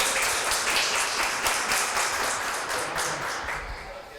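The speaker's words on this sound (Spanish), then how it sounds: "un aplauso más, por favor" Audience applause closing a talk on video game localization, a broad, steady wash of clapping from a seated crowd that holds evenly throughout and thins slightly near the end, with no voices over it.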